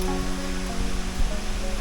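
Steady broadband roar of water rushing through a riverine forest on the way to a waterfall on the Kromriver, a continuous wash of noise with no voices.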